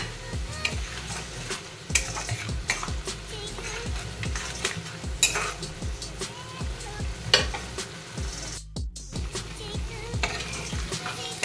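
Water-soaked spice paste with turmeric frying in a pan, a constant crackling sizzle with rhythmic stirring taps and scrapes against the pan, briefly interrupted near the end.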